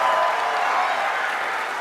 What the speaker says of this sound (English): Can you clap it out one more time for our drumline